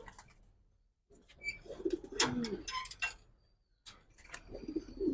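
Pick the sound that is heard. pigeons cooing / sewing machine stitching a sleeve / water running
pigeons cooing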